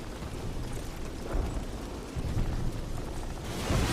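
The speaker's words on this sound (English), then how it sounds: "plant your explosives and take that flak panzer out." Explosives blow up a flak panzer in the original Call of Duty game, giving a dense, continuous roar of rumbling blast noise that swells louder toward the end, with no talking.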